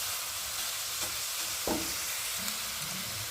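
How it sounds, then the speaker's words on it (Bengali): Grated coconut cooks with date palm jaggery in a pan, a faint, steady sizzle with occasional soft scraping strokes as it is stirred. "তো দেখো খেজুরের গুড় দিয়ে আমি নারকেলটা একটু পাক দিয়ে নিলাম"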